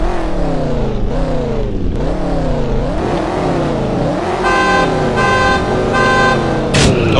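BMW Z4 GT3 race car in the CSR Racing game, engine revving and climbing through gear changes with rising and falling pitch sweeps, loud and close, ending in a sustained high rev with a brief sharp burst at the end.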